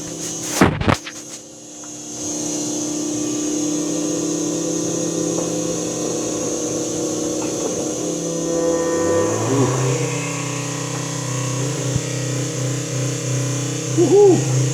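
A fuel transfer pump runs with a steady whirring hum, pumping fuel back into the other side of a tank; a knock opens it and the pitch shifts partway through.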